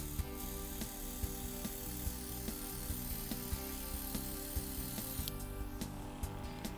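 Airbrush makeup machine running on its low setting, a steady mechanical hum with faint rhythmic ticking throughout, no voices.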